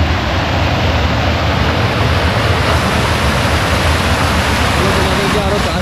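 Water rushes out continuously near a water treatment tank at a picnic park in Mahishadal, a loud, steady broadband wash with a voice talking faintly over it.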